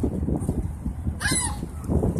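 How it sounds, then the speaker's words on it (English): Seagulls at the Verrazano Bridge: a single harsh, honking squawk rises above a steady outdoor rumble of wind and traffic, with a faint cry near the start. "These are the seagulls down at the Verrazano Bridge."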